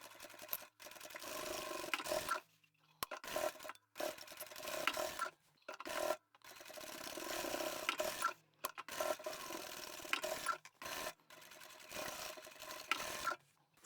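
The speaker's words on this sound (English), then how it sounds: "And we're ready to take this to the machine and sew the box corners up." A sewing machine runs in a series of short bursts, stitching the box corners of a zippered fabric pouch, its quiet motor whirr stopping and starting between pauses.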